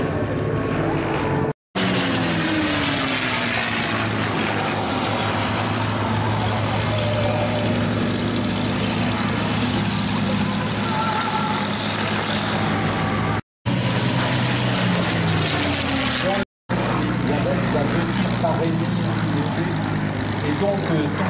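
Historic propeller airplanes drone overhead at an airshow at La Ferté-Alais. A broad steady engine roar runs throughout with short breaks, and a voice speaks over the noise.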